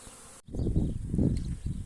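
Honey bees flying out of hives at an apiary, a dense buzzing swarm that starts abruptly after a brief quiet and swells loud and close, rising and falling in waves with no talking.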